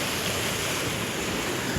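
Sea waves at Mangalore beach in Karnataka make a dense, continuous surf roar, loud and even throughout with no voices.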